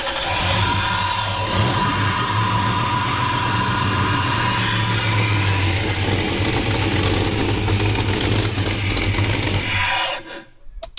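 Engine of a 1957 Chevy being tuned up, running with a steady low rumbling drone and a broad mechanical roar held for about ten seconds before it cuts off abruptly near the end.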